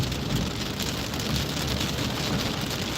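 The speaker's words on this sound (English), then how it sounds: "Rain, everywhere." Steady, dense rain falls everywhere in a downpour on the East Coast, a continuous loud hiss of drops on surfaces with no pauses, heard on its own without talk.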